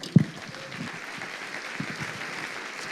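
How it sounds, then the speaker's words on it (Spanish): Applause from a church congregation during a ministerial investiture service, a short burst of clapping with a thump at the start, moderate and roomy. "Aplauso al Señor."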